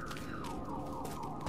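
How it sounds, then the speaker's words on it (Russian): Alarm siren in the video game Rise of the Tomb Raider: a loud, continuous electronic wail that sweeps up and down in pitch, heard alone. "выключите свою сигналку"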